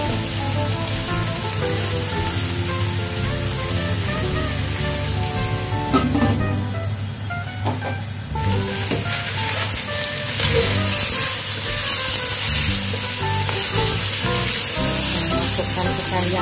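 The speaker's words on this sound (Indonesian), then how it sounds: "Setelah harum kita tumis daging ayamnya." Chicken meat is stir-fried in a pan with garlic and ginger, giving a loud, dense sizzle like heavy rain, broken by a brief lull and some stirring clatter.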